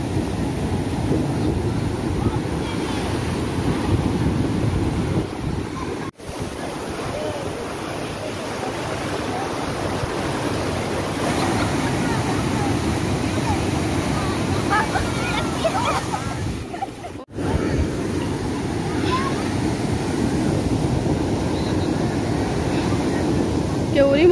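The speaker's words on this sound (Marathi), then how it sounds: "केवढी मोठी लाट येते बघा." Ocean waves break on a Konkan shore in a steady, rumbling surf wash mixed with wind, with faint voices in the background.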